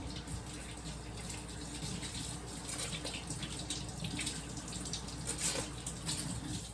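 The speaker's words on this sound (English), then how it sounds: "make sure before you cook anything, you wash your hands" Hands being washed under a running kitchen tap before cooking, a steady close hiss of flowing water with soft splashing and rubbing that swells slightly midway.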